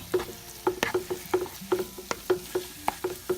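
Flour and grease gravy cooks in a pan, giving a soft sizzle under quick, repeated scraping strokes of stirring, close and fairly quiet, with no voices.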